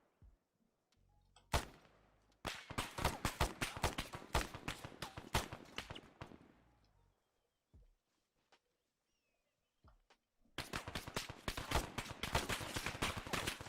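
Automatic gunfire in ArmA 3 comes in two long rapid bursts separated by a quiet gap with a few isolated shots, crisp and loud with no talking over it.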